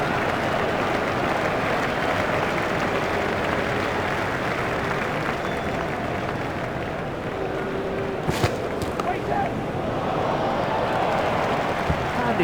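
Tremendous crowd at an Ashes Test between Australia and England applauding a batsman's century, a dense, steady wash of clapping that carries on evenly throughout with a few brief sharper sounds near the end.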